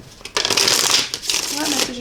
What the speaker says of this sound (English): let's go to get shuffling for the tarot cards